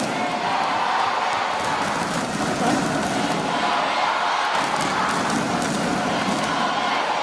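A large indoor crowd cheers for Indonesia at a pencak silat artistic male doubles final, a broad, sustained roar of many voices. It holds a fairly even loudness throughout without clear individual shouts.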